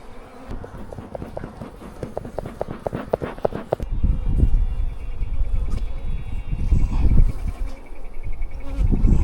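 Honey bees buzz thickly and close by during hive maintenance, a swarming hum broken by bumps and rustling handling noises.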